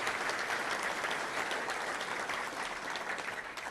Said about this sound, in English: let's give a round of applause to all the sponsors I just mentioned